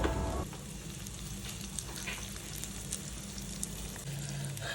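Capsicum frying in butter over a low flame, a steady soft sizzle with fine crackle running throughout at moderate, close level, with no voices over it.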